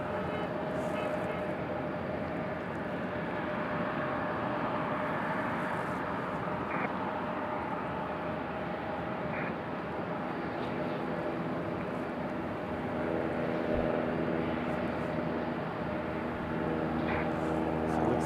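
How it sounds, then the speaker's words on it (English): An Embraer E175 jet taxis at Raleigh-Durham airport, its engines a steady broad rumble and whine holding level throughout, heard from a distance outdoors. "we do have that E175 finally making its way around here to the alleyway"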